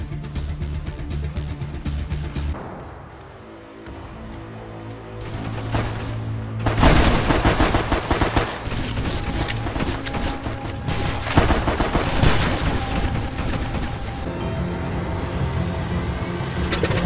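Sustained bursts of heavy gunfire providing cover fire in a Roblox navy game, loud and continuous after a short quieter stretch near the start, with engine rumble underneath.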